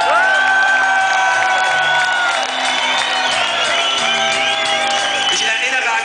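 A big rock concert crowd at a show in Kaufbeuren roars with loud, sustained cheering, whoops and shouts mixed with applause, dense and continuous throughout.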